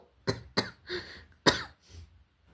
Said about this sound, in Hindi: खांसी आ रही है मुझे।